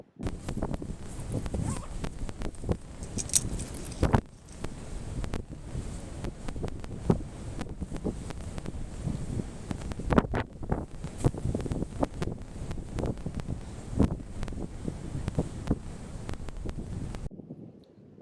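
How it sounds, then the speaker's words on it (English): Steady, heavy wind buffeting a microphone, with constant low rumbling gusts and bursts throughout, loud and close. "You guys, it's literally so windy."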